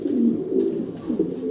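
Farm pigeons wearing ring tags coo continuously up close, a dense low warbling murmur that fills the short stretch without pause.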